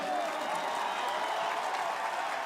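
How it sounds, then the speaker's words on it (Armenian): Sustained applause from an audience at an Armenian official gathering with judges, a dense, steady wash of clapping that stays even in level throughout, with no voices rising above it. "բուռն ծափերով"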